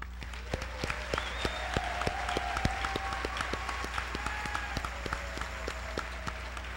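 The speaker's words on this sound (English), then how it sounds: "Please join me in a warm round of applause for all of these individuals." Audience applause at a 2013 Wayne Hills graduation ceremony, with a steady wash of clapping and sharp individual claps standing out, plus a faint voice or tone drifting over the crowd.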